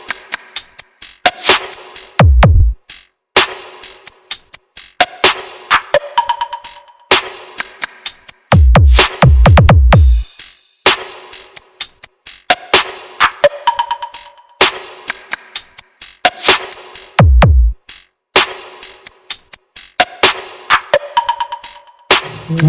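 A sound check of 200-watt loudspeaker boxes plays loud, punchy music with sharp percussive hits and deep bass thumps in irregular bursts, separated by brief gaps, close and without talk.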